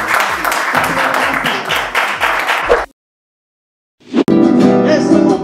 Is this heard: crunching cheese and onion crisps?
no